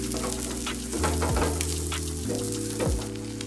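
Hash browns frying in a pan give a close, steady crackling sizzle, with a low humming tone underneath that shifts pitch a few times.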